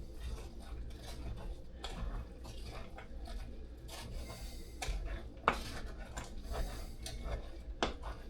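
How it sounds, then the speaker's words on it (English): Baked beans mixture stirred in a bowl, a steady scraping and rubbing of a utensil against the sides with a few sharper knocks, close and continuous, no talking. "we're going to mix this up here"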